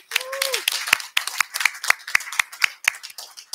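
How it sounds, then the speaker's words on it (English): Sparse, sharp hand claps at a school board meeting honoring counselors, a small group clapping close by in an irregular rhythm, with a brief voice near the start. "let's give all of our counselors a big round of applause"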